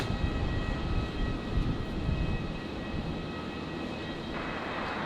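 An Emirates airliner landing at night on runway 19 left at Brisbane Airport, a steady broad jet roar that sounds distant and sustained, easing slightly toward the end.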